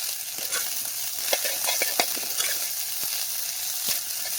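Fish eggs frying with masala, onions and curry leaves in a pan give a steady loud sizzle, with intermittent scraping clicks as the mixture is stirred.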